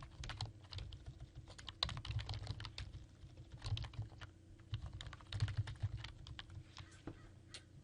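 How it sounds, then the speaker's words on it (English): Keys clatter steadily on a computer keyboard as someone types search keywords, a quick run of close, crisp clicks with short pauses between bursts. "You can type in whichever keywords you want."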